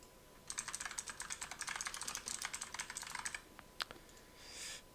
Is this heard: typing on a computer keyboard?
yes